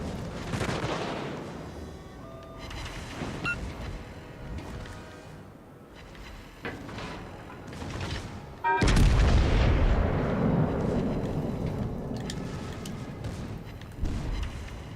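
Secondary guns of an Italian warship fire in World of Warships: Legends as a series of deep booming shots, irregular and overlapping, building to a heavy close volley midway that rumbles on beneath the game's noise.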